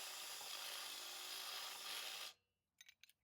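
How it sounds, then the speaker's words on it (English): A continuous, steady high-pitched whine of a step drill bit boring holes through metal for about two seconds, then it stops abruptly, followed by a few faint clinks. "drilled the holes out with a step-up drill bit"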